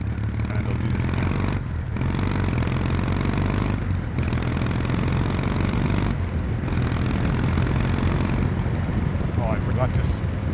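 Kawasaki W800 motorcycle engine droning steadily while riding, a continuous low rumble with wind noise that dips briefly at a few gear changes, heard up close throughout.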